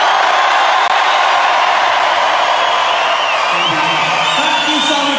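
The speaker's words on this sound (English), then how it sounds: "give me the biggest cheer you possibly can" A comedy show audience lets out a sustained, loud wall of cheering and whooping that fills the room steadily from start to finish.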